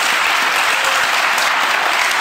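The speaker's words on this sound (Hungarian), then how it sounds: "Nagy tapsot kérek, aki így gondolja." Large audience at a live stage talk applauding loudly and steadily, a dense wash of clapping that holds at full strength without pause.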